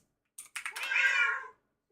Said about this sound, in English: Just a bunch of cats yelling at people.